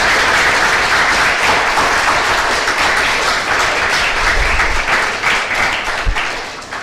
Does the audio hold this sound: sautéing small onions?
no